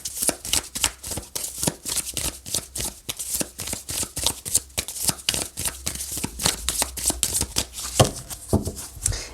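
Tarot cards being shuffled by hand for a reading, a quick rhythmic run of crisp riffling and slapping bursts, close and continuous with no talk over it.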